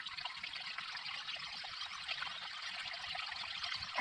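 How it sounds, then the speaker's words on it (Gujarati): Water trickles steadily and faintly into a small freshly dug pond, forming a soft continuous dribble with no other sounds over it. "પાણી હેલું જાય છે થોડું ભરાય છે"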